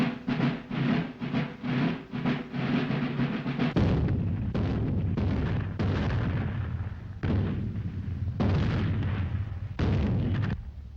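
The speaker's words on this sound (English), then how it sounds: "Have that firing stopped." Ceremonial artillery fire in an old 1929 film soundtrack: a rapid series of booming cannon shots, at first in quick succession, then heavier, more spaced blasts with rumbling decay, no voices.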